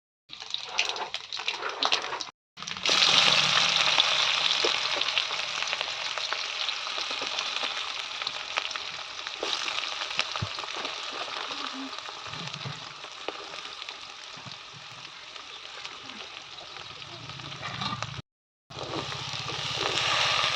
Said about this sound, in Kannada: ಹಾಗಾಗಿ ಸ್ವಲ್ಪ ತರಕಾರಿಗಳನ್ನ ಹಾಕ್ಕೊಂಡು ಉಪ್ಪಿಟ್ಟನ್ನ ರೆಡಿ ಮಾಡ್ಕೊಳ್ತಾ ಇದ್ದೀನಿ.